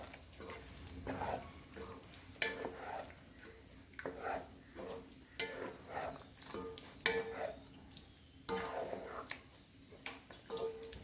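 Chana dal and mutton stirred in a pot, giving soft repeated scraping and sloshing strokes over a low sizzle, close and moderately loud with short pauses between strokes.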